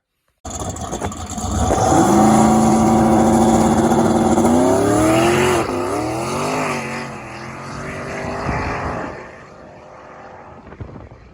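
A drag race car roars through a run at a ProStreet drag racing event, its engine loud and close, pitch climbing through gears before fading into the distance.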